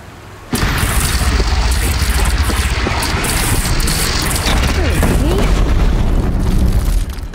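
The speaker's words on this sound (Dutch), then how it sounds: "Is dit het kanon?" A cannon fired in the video game Horizon Zero Dawn, a sudden loud blast that opens into a sustained barrage of booming, crackling fire lasting several seconds.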